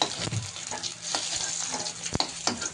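Chicken pakoras in besan batter fry in hot oil with a continuous crackling sizzle, punctuated by a few sharper pops and light utensil clinks, close up.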